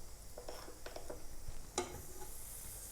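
Butter sizzling in a pancake pan, a soft steady frying hiss with a few light scrapes and one sharper clink, close and fairly quiet, with no talk.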